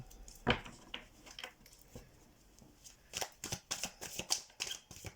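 A deck of cards is shuffled for a card reading. Soft scattered riffles and slides build into a quick run of rapid shuffles near the end, faint and close with no voices.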